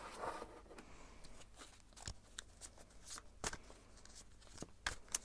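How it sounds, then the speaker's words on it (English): Tarot cards are shuffled softly by hand, a run of quiet riffles and flicks with a few sharper snaps, close and unhurried. "I'm going to shuffle a little bit more"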